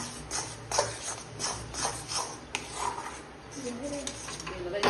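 Semolina roasting in ghee in a pan for sheera, stirred with a spoon that scrapes and taps rhythmically against the metal, fairly faint and close, with soft talking in the background.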